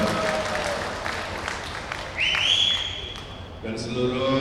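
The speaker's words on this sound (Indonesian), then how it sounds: "Tepuk tangan untuk beliau" Audience applause at a political rally in Jakarta, a burst of clapping and crowd noise under loudspeaker talk, with a whistle-like tone and other voices cutting in partway through.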